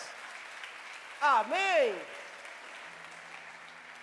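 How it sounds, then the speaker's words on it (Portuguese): A church congregation applauds in a steady, diffuse wash of clapping, while a voice briefly calls out over it. "Você pode aplaudir a Ele mais uma vez?"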